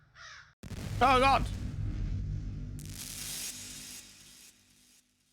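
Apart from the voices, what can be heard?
crows cawing in video game SENSE: A Cyberpunk Ghost Story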